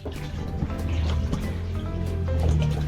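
Steady sloshing and splashing of water in a small pool in the back of a pickup truck, water spilling out, continuous and close, with no voices.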